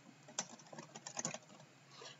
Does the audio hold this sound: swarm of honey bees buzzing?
no